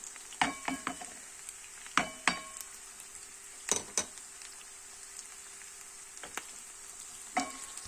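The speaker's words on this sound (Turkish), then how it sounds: "Soğanlarımız kavrulana kadar pişireceğiz." Onions fry in a pan until browned, giving a soft continuous sizzle broken by sharp scrapes and clinks of a utensil stirring against the pan at irregular intervals.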